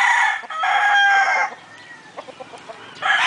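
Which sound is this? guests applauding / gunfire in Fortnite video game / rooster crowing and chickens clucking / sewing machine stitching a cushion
rooster crowing and chickens clucking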